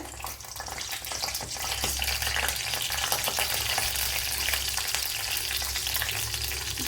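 Mustard seeds frying in coconut oil, a continuous close crackling sizzle with dense tiny pops that grows slightly louder and holds steady throughout, with no voices.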